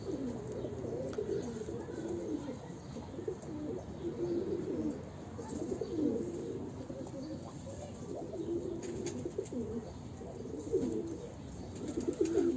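Breeding pigeons in a coop coo continuously, a steady chorus of low throaty calls overlapping throughout, moderately close with some faint chirps and occasional wing flaps.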